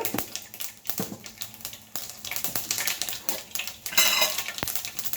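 Mustard seeds hit hot oil left over from frying pakodas, giving sharp, irregular pops and crackles over a sizzling hiss, with a denser burst of spitting near the end.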